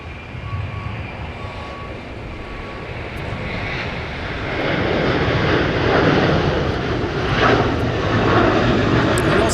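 A jet airliner takes off from Runway 24 Left at LAX bound for Paris, its engines a broad, loud roar that builds and stays strong as it climbs.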